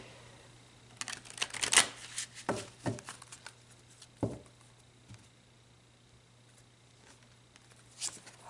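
A few soft, scattered riffling and tapping bursts of tarot cards being shuffled, close by, separated by quiet pauses.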